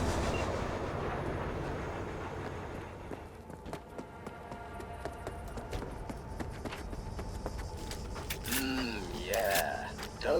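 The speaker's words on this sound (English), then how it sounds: "the train's leaving" A train pulls away in the Cyberpunk 2077 video game, with a low rumbling run of rail cars, creaks and mechanical clanks building over several seconds, while voices speak over it.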